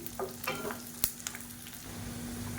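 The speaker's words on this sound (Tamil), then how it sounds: "இப்போ பரண்டையும் பூண்டு நல்லா வதங்கிருச்சு" Pirandai (adamant creeper) and garlic frying together in a pan, giving a steady close sizzle with a few stirring scrapes and one sharp clink of a utensil, no talking.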